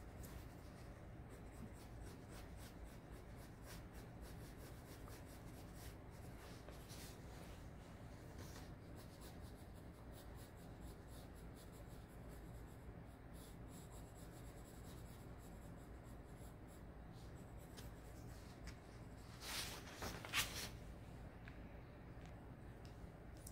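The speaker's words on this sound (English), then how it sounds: "if you feel like pencil sketching it with some shape," A pencil sketches a dolphin shape on paper in a children's drawing lesson, with continuous soft scratchy strokes that are faint and close, plus a brief burst of firmer, louder strokes near the end.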